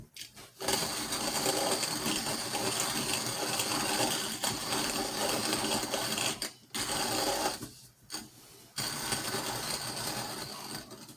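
CERA+ electric burr coffee grinder grinding beans to a fine setting, a loud steady motor whir with gritty crunching that runs for several seconds, cutting out briefly twice before resuming, with no talk.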